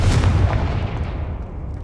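A Confringo blasting spell explodes in Hogwarts Legacy, a loud booming blast with a rumbling low roar that fades away over a couple of seconds, heard alone.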